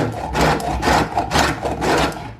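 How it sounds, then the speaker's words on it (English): A bar of laundry soap being grated on the large side of a hand grater, heard as close, steady rasping strokes in a repeated back-and-forth rhythm with no talking. "I'm using a grater to grate the soap"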